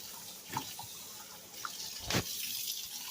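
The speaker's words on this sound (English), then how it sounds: "So I'm going to add a little bit of water." Water from a tap splashes and pours into a pot of rice, in short gurgling bursts with a louder splash near the end, close up and fairly quiet, with no talking.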